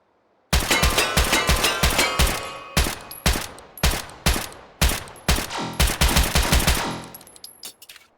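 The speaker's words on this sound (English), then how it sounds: "Then we have the MP443 Grach, shooting 9x19 Parabellum" An MP443 Grach pistol firing 9x19 Parabellum, a rapid string of sharp, loud close shots at an uneven pace with a short ringing tail after the last rounds.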